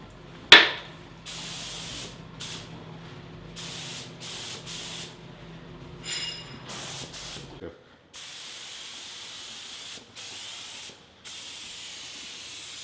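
A spray gun misting disinfectant hisses in repeated short bursts, on and off in a steady pattern, with a low hum early on and a sharp click at the start.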